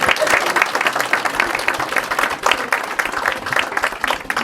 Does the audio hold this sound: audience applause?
yes